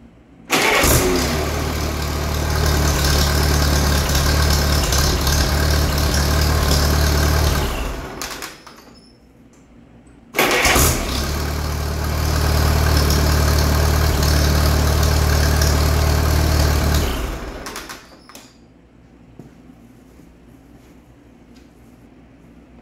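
An Allis Chalmers tractor engine, freshly magneto-timed, fires and runs twice in succession, each loud steady run lasting several seconds before cutting out, with no talking.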